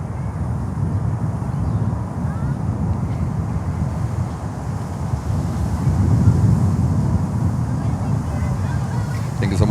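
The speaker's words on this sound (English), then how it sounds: "American Airlines, Embraer 175." An American Airlines Embraer 175 jet at Miami airport, a loud broadband engine roar with wind buffeting, steady and close, swelling slightly toward the end.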